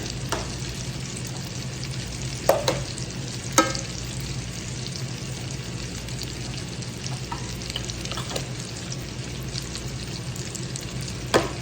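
Shrimp fry in oil and butter in a pan, a constant close sizzle and crackle with a few sharp clinks of a utensil against the pan.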